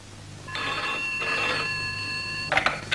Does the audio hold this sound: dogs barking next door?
no